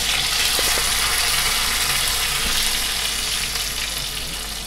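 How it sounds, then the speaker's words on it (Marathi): Chopped garlic sizzling in hot oil for a dal khichdi tadka, with a loud, steady, dense crackle that fades slightly toward the end. "आपण जो लसूण कट करून घेतला आहे ना तो ह्या तेलामध्ये टाकून घेऊया"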